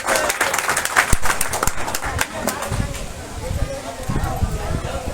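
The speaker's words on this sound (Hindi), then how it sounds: "जोर से तालियां मारेंगे आप लोग" A crowd at a memorial gathering claps to welcome a guest onto the stage, with dense broadband applause holding steady throughout. Voices and other noise mix into the clapping.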